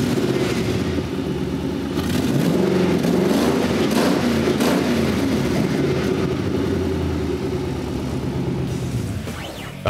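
A Ford 4.6L modular V8 fitted in a Ford Ranger pickup runs steadily and loudly up close, a continuous throbbing engine drone with slight rises in pitch and no voices.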